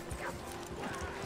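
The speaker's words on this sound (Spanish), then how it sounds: "mira cómo patina el caballo" Horse hooves slipping and clopping through mud in Red Dead Redemption 2, a few uneven squelchy hoof hits over steady background game ambience, no talk.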